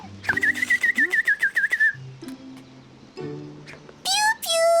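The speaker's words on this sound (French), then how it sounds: "L'oiseau parle avec Martin." Whistled, bird-like calls in a warbling trill, then rising tweets near the end, set among children's speech in an outdoor activity scene. Short bursts separated by pauses of talk.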